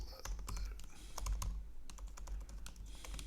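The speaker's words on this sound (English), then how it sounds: "let's do some typing" Quick, irregular clicks of computer keyboard keys sound close and fairly quiet while someone writes code, with bursts of keystrokes and short pauses over a low background hum, and nobody speaks.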